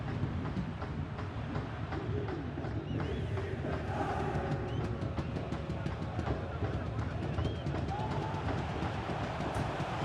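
A large stadium crowd in the video game EA Sports FC 24 roars and chants continuously during a Champions League match, dense and loud, with a commentator voice talking over it.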